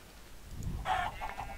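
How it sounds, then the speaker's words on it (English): Minecraft chickens let out a short, close burst of clucks over quiet background, with no voices. "Get out of here, chickens."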